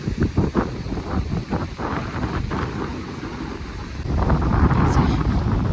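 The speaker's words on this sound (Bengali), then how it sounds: "প্রচণ্ড হাওয়া" Strong wind buffets the microphone at a mountain waterfall camp during a self-supported expedition to Mt. Lady of Keylong, with loud gusty roaring that swells stronger near the end and continues without talk.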